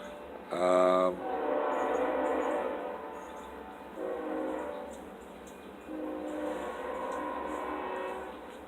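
A Canadian Pacific train passes with a loud, harmonic horn blast near the start, followed by several longer, quieter horn sounds over the steady rumble of railcars rolling by.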